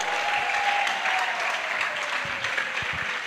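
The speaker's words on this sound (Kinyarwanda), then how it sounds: "Imana tuyongera amashyi nanone" Church congregation applauding, a steady wash of clapping from many hands sustained throughout with no break or speech over it.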